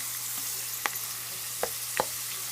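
Homemade potato chips fry in hot oil over lowered heat, giving a steady, close hiss of sizzling broken by a few brief pops and crackles.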